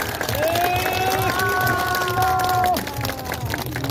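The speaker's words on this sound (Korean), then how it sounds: "큰 박수 주십시오" Audience applause at a Korean political gathering marking President Park Chung-hee's 105th birth anniversary, as an elder advisor is welcomed to the stage; dense, steady clapping fills the space while a sustained tone runs over it.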